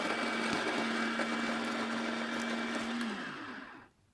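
A Fellow Opus coffee grinder grinds coffee beans with a steady, soft whirring drone that holds evenly for about three seconds. It then slows and winds down to silence as the motor stops.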